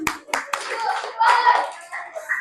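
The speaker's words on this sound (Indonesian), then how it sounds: "Tepuk tangan" Children in a classroom clap their hands in a few sharp bursts, followed by a scattered patter of claps, with young voices chattering over it.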